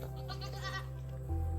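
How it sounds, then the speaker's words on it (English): A goat gives a clear, wavering bleat close by on a farm with a lean-to, standing out over a steady low hum before the hum shifts near the end. "Got my little goat up on my post."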